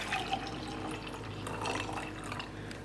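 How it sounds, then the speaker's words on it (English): Hot water pours softly into a cup for black coffee, a faint, steady trickle with small splashy drips close by. "I'm just adding some hot water."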